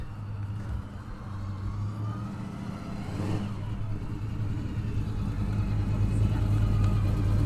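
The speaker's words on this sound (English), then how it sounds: "That's a loud car." A loud car engine revs and rumbles steadily near a high school varsity baseball game, a deep continuous drone that holds for the whole stretch and swells slightly toward the end, with faint voices in the background.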